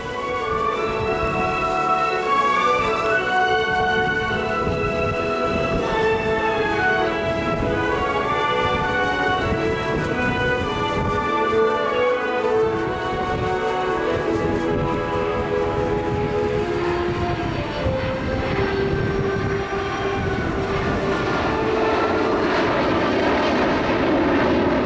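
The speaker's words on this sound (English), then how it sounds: "He's going to configure the aircraft for a slow flyby." U.S. Navy F/A-18F Super Hornet jet making a slow flyby at the 2009 Australian International Air Show, its engine roar loud and sustained with a shifting whine as it passes.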